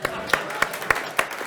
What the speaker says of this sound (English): give Louis Ducker a round of applause